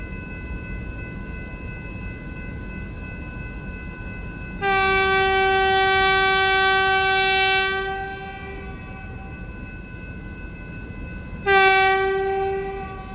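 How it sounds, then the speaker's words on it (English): A passenger train horn blares in a long sustained blast, then a second short blast, over a steady low rumble of rail cars rolling past. "That's a passenger train."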